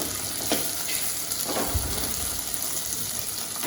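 Brinjal and potato pieces sautéing in a pan for a jackfruit seed gravy, a steady close sizzle with occasional soft stirring scrapes and no talking.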